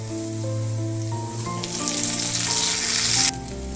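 Potatoes dropped into a pan of browned onions and tempering spices for a Bengali boal fish curry, a loud close sizzle that swells and stays steady, with faint background music.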